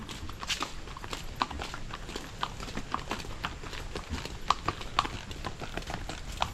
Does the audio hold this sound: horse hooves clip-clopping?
yes